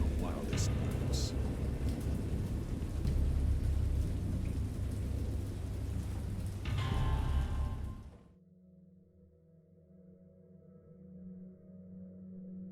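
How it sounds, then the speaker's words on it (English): A great storm at sea near a boat: heavy rain and rolling thunder roar loud and dense for about eight seconds, then cut off abruptly to a quiet, low hum. "I have indistinct recollections of a great storm sometime after I reached the boat."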